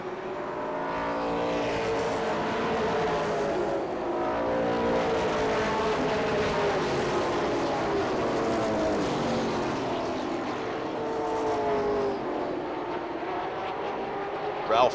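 Race cars lap at Beech Ridge Motor Speedway during 1993 weekly racing, their engines a steady, rising and falling drone beneath continuous announcer commentary.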